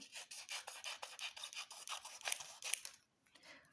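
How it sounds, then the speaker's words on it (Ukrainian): Repeated rasping snips of scissors cutting through paper folded in half, about a dozen quick cuts in a steady rhythm, close and fairly loud, then a sudden stop into near silence. "вирізати листячко з цього згорнутого папіру"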